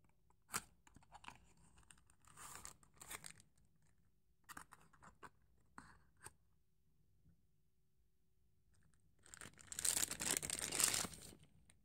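Packaging of a Tomica Premium Lamborghini Countach LP500S toy car being opened indoors, with quiet scattered scratches and taps followed by a louder burst of crinkling and tearing near the end.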